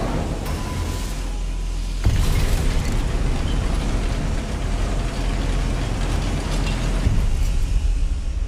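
An Incendio fire spell in Hogwarts Legacy erupts with a sudden loud whoosh. A continuous roaring, crackling blast of flame follows and holds dense and heavy for several seconds.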